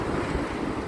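Sea waves wash at a beach on Siquijor Island, a dense, steady roar of surf mixed with wind buffeting the microphone, loud and close throughout.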